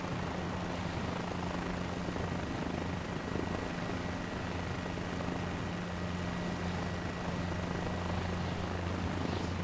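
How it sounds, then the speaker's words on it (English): A helicopter in MSFS 2024 lifting off from a helipad, a steady droning rotor and engine roar with a constant low hum, even and unbroken throughout. "So now they want you to take off from the helipad."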